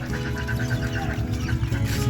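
Hens clucking on a poultry farm, a steady, close chorus of short, overlapping calls with a constant low farmyard hum beneath.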